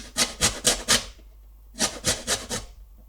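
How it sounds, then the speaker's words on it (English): Lemon being zested: two bursts of quick rasping strokes, about four scrapes each, close and crisp, separated by a short pause, with no voices. "We need some lemon zest, so I'm actually using the other half of the lemon"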